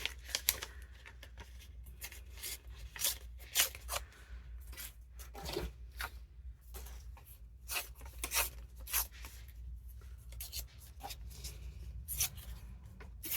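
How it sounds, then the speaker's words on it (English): Paper being torn by hand into roughly equal pieces for a junk journal, a series of close, short ripping bursts with pauses between them, quiet and alone without talk. "just make rip pieces relatively the same size"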